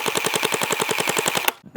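A gel blaster fires a rapid automatic burst of about fifteen evenly spaced, sharp snapping shots, close and loud, then cuts off abruptly into silence.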